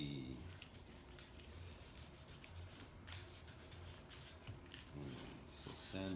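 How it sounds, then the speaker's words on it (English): Steady abrasive rubbing as Honda C70 camshaft and rocker parts are sanded by hand, a continuous close scratchy rasp lasting several seconds with slight strokes and no speech. "So sanding makes it clean."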